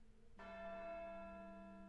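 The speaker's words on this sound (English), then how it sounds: "Why am I ringing the bell?" A bell rung in the Syberia II video game strikes once and rings out in a steady, sustained tone that hangs in the air without fading much.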